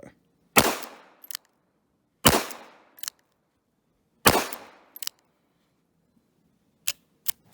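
An 1895 Nagant revolver firing 7.62x38mmR rounds at a shooting range: three loud, sharp shots with ringing decays, each followed by light mechanical clicks from the cylinder and hammer.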